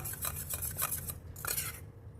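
A manjistha face gel is mixed in a bowl, giving quiet, rhythmic scraping and clinking of a utensil against the bowl in short strokes, close and soft, without speech.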